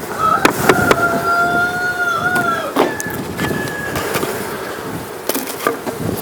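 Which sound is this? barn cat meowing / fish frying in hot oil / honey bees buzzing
honey bees buzzing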